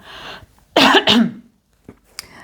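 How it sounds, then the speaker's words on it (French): Two loud, harsh coughs in quick succession, close up, followed by quiet breathing. "Je vais tousser, excusez-moi."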